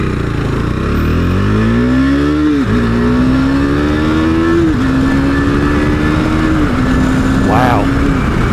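A KTM 390 Adventure motorcycle accelerates hard from a red light, its engine note rising steeply through several gear changes with brief dips between them, close and loud, with talking over it.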